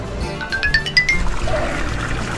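Water splashes and trickles from a public drinking fountain on a street in Ubrique, Spain, a close, steady running flow with a few bright tonal pings near the start.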